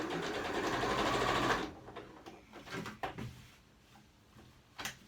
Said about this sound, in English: And sew the rest right off the edge.